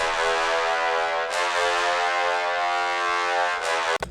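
Sustained, buzzy synth brass tone holding a bright harmonic chord, loud and continuous, with two brief breaks before cutting off at the end.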